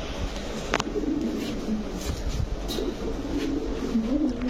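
A male chocolate racer pigeon coos softly in a low, rolling rhythm several times, close by, over a steady background hum.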